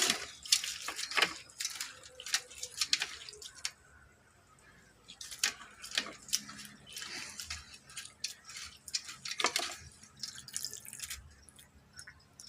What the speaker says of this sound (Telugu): ఇప్పుడు మనము ఈ అటుకుల్ని చక్కగా తడుపుకోవాలి